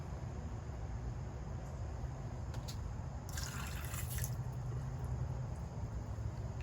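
Water poured into an Instant Pot pressure cooker, a faint splashing trickle that swells briefly in the middle over a constant low background hum.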